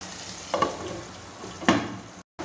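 Potatoes frying in a pan with a steady close sizzle, broken by two scraping strokes of a spatula stirring them, ending in a brief cut to silence.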